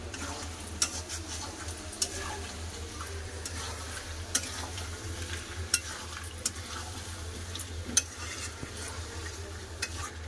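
Chicken pieces frying with spices and yogurt in a pan, a soft steady sizzle with scattered spoon clicks and scrapes as the mixture is stirred.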